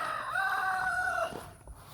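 A chicken gives one drawn-out, strained call lasting about a second, close by, over faint outdoor background noise.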